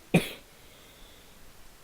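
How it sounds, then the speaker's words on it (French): A single sharp cough from a person playing a Minecraft survival game, loud and brief near the start, followed by quiet room tone with no talking. "Je vais tousser."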